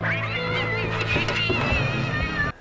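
A long, drawn-out, strained cat yowl, loud and close, wavering in pitch over a couple of seconds before cutting off abruptly.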